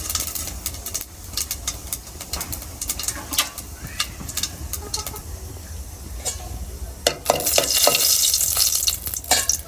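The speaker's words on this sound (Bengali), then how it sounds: "তেল গরম হয়েছে, আর মৌরি দিয়ে দিতেছি।" Fennel seeds frying in hot oil in a cooking pot, a steady close sizzle with scattered crackles and stirring scrapes, swelling louder and brighter near the end.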